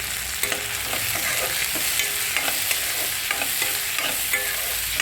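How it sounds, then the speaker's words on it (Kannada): Frozen peas tipped straight into a hot pan with dal and broken wheat sizzle steadily, with a spoon scraping and stirring in repeated soft knocks. "ಇದು ಫ್ರೋಝನ್ ಬಟಾಣಿ ಆಗಿರೋದ್ರಿಂದ ಡೈರೆಕ್ಟಾಗಿ ಹಾಕ್ಕೊಳ್ತಾ ಇದ್ದೀನಿ"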